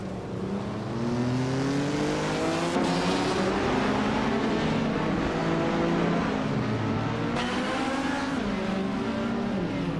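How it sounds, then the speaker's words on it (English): A 1977 Lancia Stratos HF rally car races in a video game, its engine revving up and down in steady waves with gear shifts, loud and continuous with no talking. "Hingle McCringleberry is in a 1977 Lancia Stratos HF, a classic rally legend"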